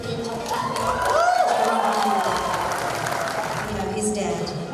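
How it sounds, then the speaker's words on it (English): Crowd applause and cheering fill a hall at the Fiji Sports Awards 2018 as Sportsman of the Year is honoured. The sound is a steady wash of clapping with some raised voices, fairly loud throughout. "Let's give them another round of applause, ladies and gentlemen."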